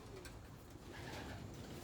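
Racing pigeons coo softly and repeatedly in a loft after a long flight, low throaty calls blended with a steady background hum.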